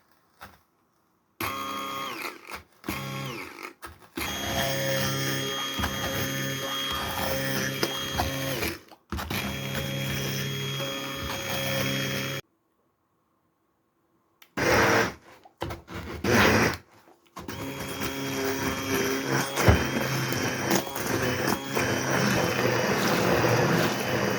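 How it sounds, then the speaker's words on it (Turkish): A blender motor whirs loudly in several long runs while blending a watermelon ice cream mixture, stopping and restarting with short silent pauses between bursts. "tekrardan blenderdan geçireceğiz."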